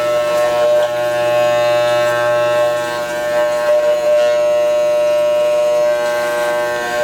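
Electric hair clippers with no guard trim the hair at the back of the head, squaring off the hairline, giving a loud, steady motor buzz that holds throughout without speech.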